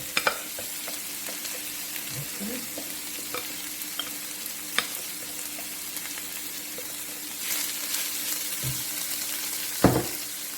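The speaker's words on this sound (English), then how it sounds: "allow that to saute with all the other ingredients in it" Smoked herring sautés with tomatoes and other ingredients in a pan for a Trinidadian main dish, giving a soft continuous sizzle broken by occasional scrapes and clinks of stirring.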